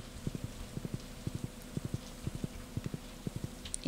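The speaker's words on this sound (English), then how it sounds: "taking my horse out in the rain" In the Stardew Valley video game, a horse's hooves clip-clop at a steady trotting rhythm, in quick pairs and triplets, over a soft, steady patter of rain.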